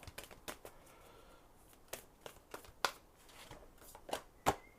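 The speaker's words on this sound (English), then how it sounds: "let's give this a quick shuffle" Cards being shuffled by hand in short, crisp riffles and taps, close and quiet, with brief pauses between bursts.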